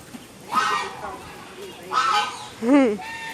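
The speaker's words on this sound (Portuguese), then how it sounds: "Olha que bonitinho o gansinho pequeno." A yellow-billed goose honks in three loud, nasal bursts spaced across a few seconds, close by, with people's voices nearby.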